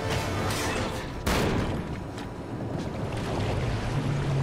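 Stormy sea waves in Uncharted 3: Drake's Deception on PS4 make a continuous roaring wash of wind and surf. A sharp crashing burst comes early on, then the heavy churning continues.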